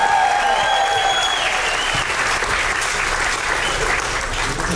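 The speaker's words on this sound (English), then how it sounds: "Give a round of applause to your wit set." A comedy club crowd in Spokane breaks into loud, sustained applause that fills the room evenly for several seconds, with faint voices underneath.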